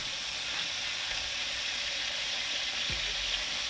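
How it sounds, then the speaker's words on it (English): Pork chops fry in a pan with a steady, even sizzle of hot oil that holds up close and fairly loud, broken by one soft low thud partway through, and nobody speaks. "if you're frying pork chops and you like how these look right here"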